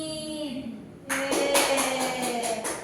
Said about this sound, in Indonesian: tepuk tangan untuk Ismi